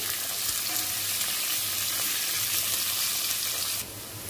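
Onion frying in a pan gives a continuous, even sizzle close by that drops slightly near the end, with no talking.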